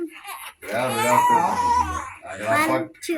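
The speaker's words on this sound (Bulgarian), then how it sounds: "Чуваш ли? Да, това е бебе." A baby cries in close, loud, wavering wails broken by short breaths, heard at home with adult voices speaking over and between the cries.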